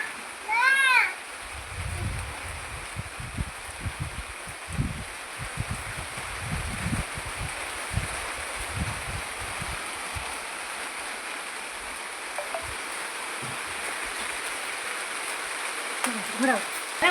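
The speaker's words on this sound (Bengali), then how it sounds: "বিশাল বৃষ্টি হচ্ছে।" Heavy rain falls in a steady, dense hiss through the whole stretch, with people, including a child, talking intermittently underneath.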